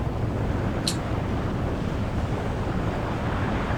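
Ocean waves wash and hiss in a steady, broad rush with wind buffeting the microphone and a brief high chirp near the start.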